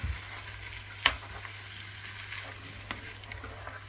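Chicken fries with ground garlic in a pot, giving a soft, steady sizzle with a low hum beneath it. One sharp clink of a utensil lands near the start, and a faint stirring scrape follows later, with no voices.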